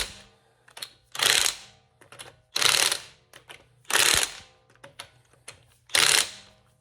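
A ratchet tightens car wheel lug nuts in a star pattern during a tire rotation, giving about five short bursts of rapid clicking with brief pauses and softer clicks between them, close by.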